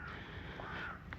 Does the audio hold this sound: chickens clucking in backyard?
no